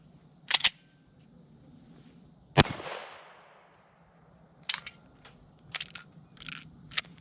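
FN 509 Tactical pistol firing light handloaded ammunition, a single sharp shot ringing out amid a few quieter clicks and clatters of handling, heard at moderate distance.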